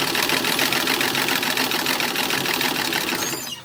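Sewing machine stitching the cuffs of a 1920s summer party dress, a loud, steady, close rattle of rapid stitches that slows and fades at the very end.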